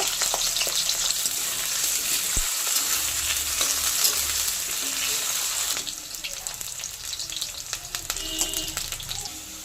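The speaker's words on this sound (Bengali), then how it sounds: "আলুগুলো ভেজে নেব।" Steady hiss and crackle of potatoes frying in hot mustard oil, continuous and close, easing slightly in the second half with faint clinks.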